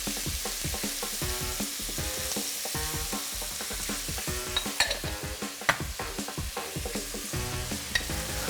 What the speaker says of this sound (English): And then some diced bell pepper. Give that a stir.